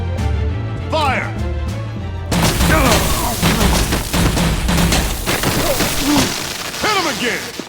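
Gunfire in Batman: The Enemy Within, a dense, loud barrage of rapid shots and crashing impacts following a shouted order, with voices yelling amid the chaos.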